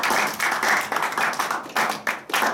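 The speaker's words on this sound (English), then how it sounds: "Let's give an applause to Christ for all you have done." A church congregation applauds for a couple of seconds, a dense, close wash of clapping that swells and dips in bursts.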